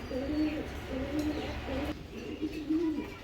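Kashmiri racing pigeons coo softly in repeated low, rolling phrases under steady background noise, with no one speaking.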